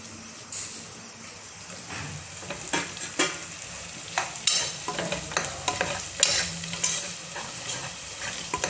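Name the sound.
masala frying in oil for vegetable rice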